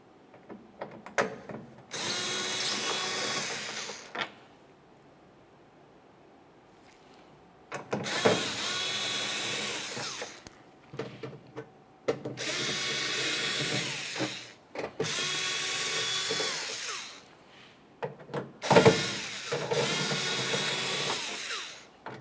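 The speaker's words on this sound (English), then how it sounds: "you're going to find several T27 screws that hold this in place. We'll go ahead and remove all 6 of these," A power drill with a T27 bit backs screws out of a 2001–2005 Ford Explorer Sport Trac tailgate panel: five loud, close whirring bursts of two to three seconds each, separated by brief pauses.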